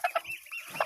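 A few short, quiet clucks from a chicken or mother hen, two quick ones close together then another after a pause, faint and fairly close, with no talking over them.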